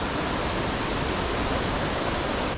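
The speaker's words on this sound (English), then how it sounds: "Then the water flows" Water at Rifle Falls rushes and tumbles downward in a steady, broadband hiss, constant and moderately quiet, with no other sounds over it.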